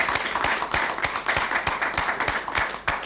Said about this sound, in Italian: io direi di fare un grandissimo applauso a Grassi